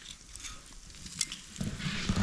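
Bacon sizzles in a pan over a riverside campfire on an October canoe trip, a steady close crackle and hiss running for about two seconds with no voices.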